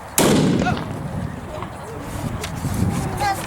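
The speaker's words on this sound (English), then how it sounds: "fire off a 12-gauge black powder blank round" A 12-gauge black powder blank round fires once outdoors with a sharp, loud report that rolls away into a fading rumble, with faint voices in the background afterward.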